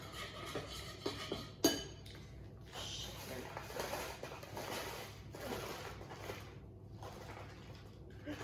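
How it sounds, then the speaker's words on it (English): A spoon stirs lemon icing in a bowl for a vegan lemon loaf, giving soft, steady scraping and clinking against the bowl with one sharper clink near the start, close and fairly quiet throughout. "I'm going to put my dry spoon down and pick up my wet spoon to stir"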